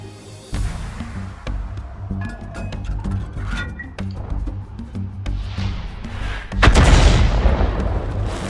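Tank cannon fire in the mobile game World of Tanks Blitz: repeated loud booming shots with a heavier blast near the end, over a constant engine drone and battle noise, no talk.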